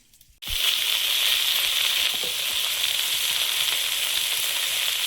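Five-spice tempering hits hot oil with a sudden loud sizzle, then a steady, dense frying hiss holds for several seconds with no talking.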